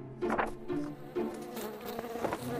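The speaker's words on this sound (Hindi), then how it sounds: "ओह मक्खी, तुम वापस आ गई।" Fly buzzing in a Spider-Man video game, a loud close insect drone with wavering pitch that swells and dips over a couple of seconds with no talk over it.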